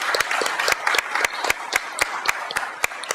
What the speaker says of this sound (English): If we could give a big round of applause to our first graduating class of River Rangers.